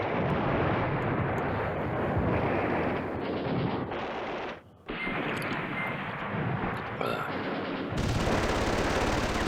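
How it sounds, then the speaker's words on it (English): An airstrike in the Command Ops 2 war game: a loud, continuous barrage of explosions and gunfire rumbles on, broken by a short dip in the middle before the noise resumes. "Okay, we got an airstrike, which is great."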